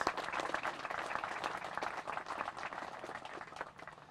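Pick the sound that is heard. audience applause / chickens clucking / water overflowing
audience applause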